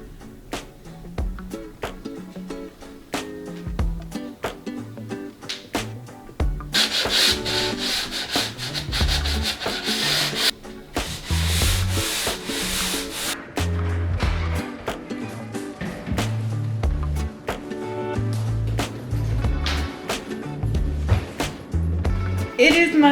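Walls in a 1980s house under renovation are sanded, steady loud rubbing strokes with bursts of harsher, brighter grinding, heard up close.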